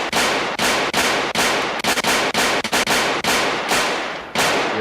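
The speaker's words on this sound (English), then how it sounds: "The gunshot." Rapid volley of sharp gunshot blasts used as a sound effect in rap song production, about a dozen loud cracks in uneven rhythm, each with a short decaying tail, close and alone with no voices.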